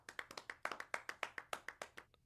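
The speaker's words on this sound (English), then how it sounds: "That was just Bill clapping for me" One person clapping alone, a steady run of about fifteen crisp, evenly spaced claps, faint and somewhat distant, slowing slightly at the end.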